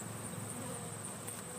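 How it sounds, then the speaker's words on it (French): Worker honeybees at an opened beehive give a steady, dense buzzing drone, close and continuous through the brief moment, with no voices. "Juste les petites abeilles peuvent passer. Juste les ouvrières."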